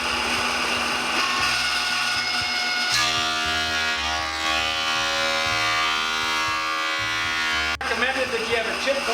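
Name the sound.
power planer planing pallet boards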